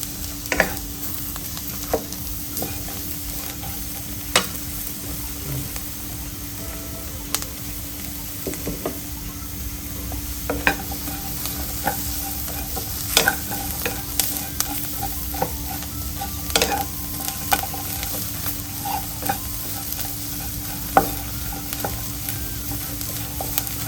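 Pork and spices are dry-roasted in a pan for Northern Thai larb, a steady sizzle under frequent scraping stirs and clicks of the utensil against the pan that go on throughout.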